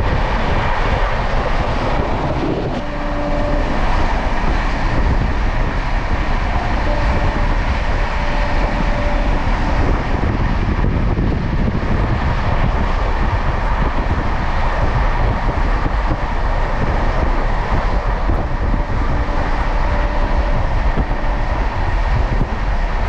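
Bikaner–Howrah superfast express train running through a station without stopping, a loud, steady, continuous roar of rumbling wheels and rushing air, heard from on board.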